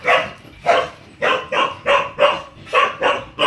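A dog barks eight times in a steady, regular rhythm, each bark loud and close with short gaps between, alone without talk.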